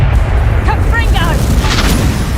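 Confringo blasting spell detonating in Hogwarts Legacy, a heavy low rumbling boom that sustains through the whole moment, with brief voices cutting in over the blast.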